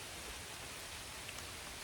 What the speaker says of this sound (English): it's pissing it down at the moment